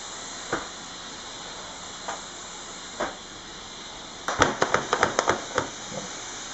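A Shark Steam Pocket Mop S3105 gives off a soft, steady hiss, with faint puffs early on and then a quick run of sharper bursts of steam as the handle is pumped.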